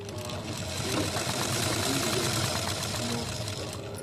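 A sewing machine stitching a size 36 blouse with four tucks, running as a steady, close, rapid mechanical chatter throughout.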